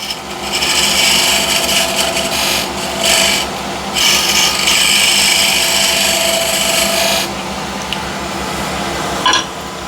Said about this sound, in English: So now with a square end scraper, just make this slightly wider.